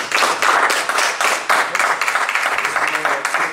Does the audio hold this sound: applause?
yes